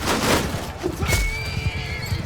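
Horses neigh loudly in a Mount & Blade II Bannerlord battle, with one shrill whinny rising over the busy din of hooves clip-clopping close by.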